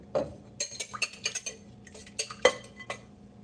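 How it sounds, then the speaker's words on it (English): A whisk clinks against a bowl while breakfast is made, in a quick series of about a dozen light metallic taps and chinks at close range, with short pauses between them. "So my friendly whisk."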